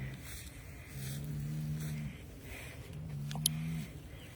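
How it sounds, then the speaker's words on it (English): Two long, low moos from a distressed cow in Central Texas, each drawn out for about a second, somewhat distant over an outdoor background hum. "There is a distressed cow."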